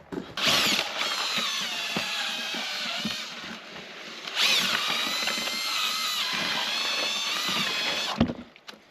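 A power drill-driven paddle mixer churns primer for laying concrete copings, giving two sustained loud whirring bursts close up with a brief dip between them and a sharp stop at the end.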